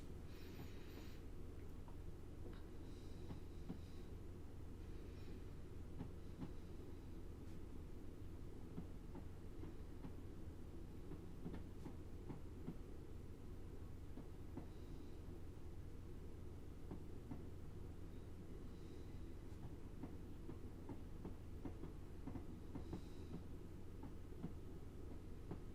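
Steady, fairly quiet running rumble of a Class 156 diesel multiple unit in Train Simulator 2020 on the Great Yarmouth to Norwich route, with faint rhythmic clicks over the rails and no talking.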